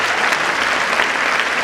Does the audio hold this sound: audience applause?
yes